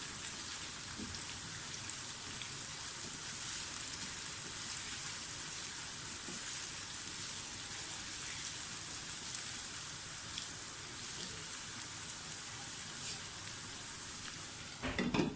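Onions frying in a pan for an omelette give a steady, even sizzle and crackle that runs unbroken for about fifteen seconds, with no voices over it.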